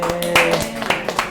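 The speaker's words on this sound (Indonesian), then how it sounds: "tepuk tangan buat Nisa" Brief burst of a few hand claps for Nisa at the close of a bilingual class meeting, a voice sounding alongside the scattered claps.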